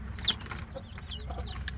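A ten-month-old Indio Gigante rooster gives a few soft, faint clucks and short calls at close range against a quiet background hum, without any talking.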